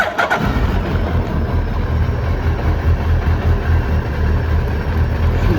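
Cold motorcycle engine with fuel injection and an idle riser catches and settles into a steady, loud, slightly rough idle, close by, with no talking.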